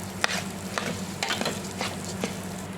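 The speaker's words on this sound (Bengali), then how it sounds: "এভাবেই এই পোলাওর চালটা ভেজে নিব" Polao rice fries in a pot with a gentle continuous sizzle while a spoon stirs it in short scraping strokes, close and quiet.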